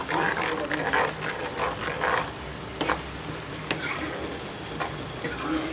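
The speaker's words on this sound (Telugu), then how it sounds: "పచ్చివాసన పోయిందాకా బాగా వేగించుకోవాలి." Tender tamarind leaves, eggs and dried small fish fry in a pan as a steady close sizzle, with repeated scraping stirs of a spoon against the pan.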